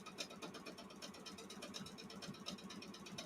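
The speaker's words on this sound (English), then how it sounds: "An embroidery machine that can quilt." An embroidery machine stitching quilted swirls runs with a steady, fast mechanical chatter, a continuous rhythmic whirring that holds at an even, fairly close level throughout with no talk.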